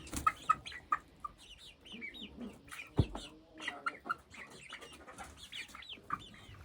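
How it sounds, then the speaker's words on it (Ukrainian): Several chickens, including two young roosters, cluck and murmur nearby in irregular bursts, with a rooster's brief call and a sharp knock partway through. "Маємо два півника наче вони мирі."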